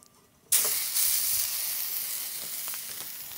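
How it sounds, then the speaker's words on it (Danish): Steak frying in neutral oil bursts into a loud, steady sizzle as the meat hits the hot pan, hissing continuously up close with crackles and no talk. "Jeg steger bøffen fast i neutralolie"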